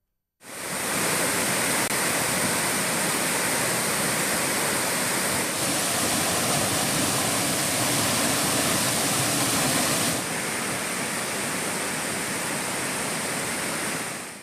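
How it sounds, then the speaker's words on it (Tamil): The Courtallam waterfall in heavy flood flow after heavy rain roars as a loud, dense, unbroken wash of cascading water that is close and continuous, with no voices. "குற்றாலம் அருவியில் தண்ணி அதிகமாக வர்றதால யாரையும் குளிக்க விடல"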